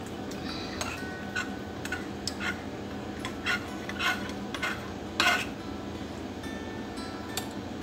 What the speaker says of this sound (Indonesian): Lalu diaduk.